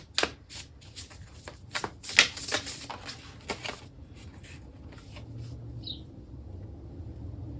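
Tarot cards being shuffled in quick crisp riffling bursts, near and fairly loud, before a single card is drawn, with the shuffling then trailing off into quiet.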